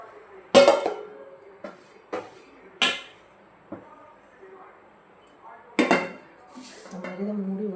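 Murukku dough set into a metal vessel and covered with a lid, giving a few sharp clinks and knocks of metal on metal, spaced out over quiet gaps, with soft talk near the end.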